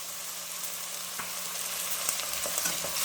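Tomato pieces fry in a pan with a steady, dense sizzle and crackle, close and even throughout, with a few faint stirring knocks and no talk.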